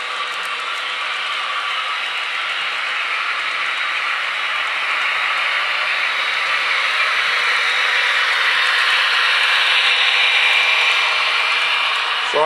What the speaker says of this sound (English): Here comes my CSX train through the tunnel.